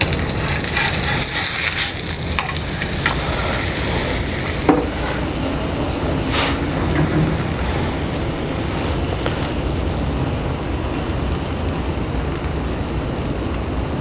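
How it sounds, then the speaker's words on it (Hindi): Egg lachha paratha, a street-style egg bun parotta, roasting on a hot griddle gives a steady, loud sizzle and crackle throughout, with occasional scraping touches. "इसको पहले हमने थोड़ा सा दोनों साइडों से सेकना है।"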